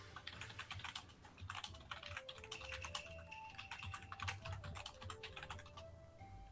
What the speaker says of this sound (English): What are you typing? Just replying to the chat.